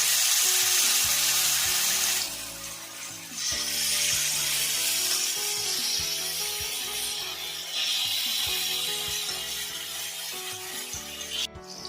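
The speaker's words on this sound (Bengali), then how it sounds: "আমি পুরো চিকেনটাই সব একবারে দিয়ে দিলাম, একটু ভাজা ভাজা করে নেব" Marinated chicken pieces frying in hot oil, a bright sizzle that flares loud at first, dips, then surges again with soft bubbling and scraping of utensils.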